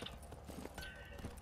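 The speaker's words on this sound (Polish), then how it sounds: "Czyli musimy wsiąść najlepiej na konia." Horse hooves clip-clop in The Witcher 3 video game, soft rhythmic hoof steps under a steady bed of ambient game sound and music, fairly faint.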